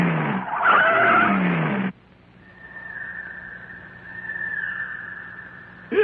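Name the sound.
trucks driving in, in an animated cartoon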